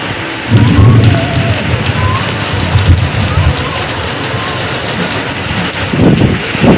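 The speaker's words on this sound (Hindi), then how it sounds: "इतना तेज बारिश हो रहा है" Heavy rain pours steadily in a dense, loud hiss, with low rumbles underneath and a voice speaking briefly near the start and end.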